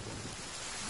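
Rain and rolling thunder from a survival-building video game, a dense, steady hiss of downpour with a low rumble underneath, faint and brief, no talking.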